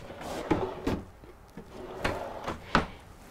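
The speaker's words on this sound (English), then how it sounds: "And then we've got full extension drawers." Full-extension drawers in a 2023 Newmar Ventana 4369 RV kitchen slide open and shut several times, giving a series of close, sharp knocks and rolling thuds at irregular intervals.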